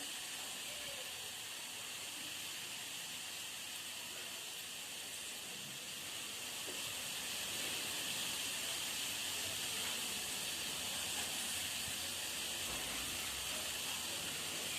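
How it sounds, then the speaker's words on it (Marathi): A pot of water for spicy fasting vada rassa coming to a boil, giving a steady, even hiss that holds throughout and swells slightly about halfway through. "आता तुम्ही बघू शकता पाण्याला उकळी यायला लागलेली आहे"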